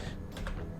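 A few quick, soft clicks of computer keyboard keys pressed while working in Blender, close and quiet with no talking.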